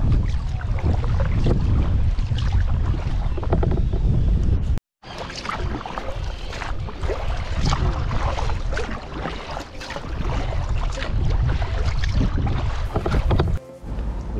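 Wind buffeting the microphone along with rough sea waves at a harbour on the Lithuanian coast, a loud continuous roar with gusty surges and brief dropouts, close up, no speech.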